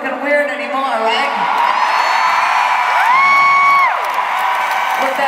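A concert crowd cheers with loud, continuous shouting and whoops, and a shrill whistle-like cry rises above the din midway.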